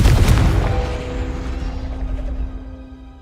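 A Confringo fire spell detonates in Hogwarts Legacy, a loud close explosive boom at the start that rolls off into a fading, ringing decay over a few seconds.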